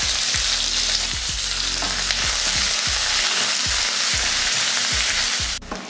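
Onion sautéing in hot oil in a kadai with mustard seeds, urad dal and curry leaves, a steady close sizzle with repeated scraping stirs at a regular rhythm and no talking.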